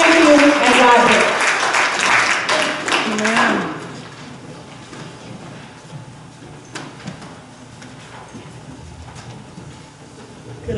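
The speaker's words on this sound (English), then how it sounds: "Let us give all of you a huge round of applause." Audience applause for clergy, elected officials and guests at a community affairs gathering, loud clapping mixed with voices for the first few seconds, then fading to a quiet room with scattered small noises.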